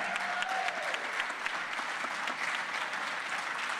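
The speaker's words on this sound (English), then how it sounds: "Now you can applaud all you'd like." Audience applause fills a congressional debate hall for the Connecticut 2nd District race, a dense, steady clatter of many hands clapping that holds at an even level from start to finish.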